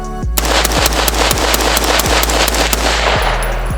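A gun at a shooting range is fired rapidly until the magazine is empty, a loud, fast stream of roughly a dozen evenly spaced shots lasting about three seconds before it stops.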